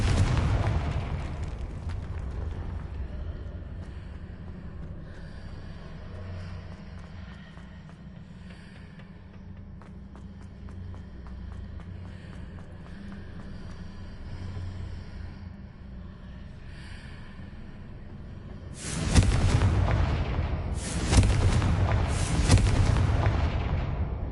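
Spell explosions from the video game Hogwarts Legacy, a low rumbling combat bed with scattered crackles, then a loud burst of blasts near the end.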